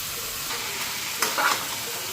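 Chowmein with egg stir-fried in a hot wok: a steady, fairly quiet sizzle with a few louder scraping stirs near the middle.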